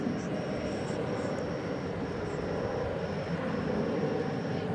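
An MD-11 passes over a bridge at night, a steady broad roar of jet engine noise holding at constant loudness throughout with a faint high whine on top.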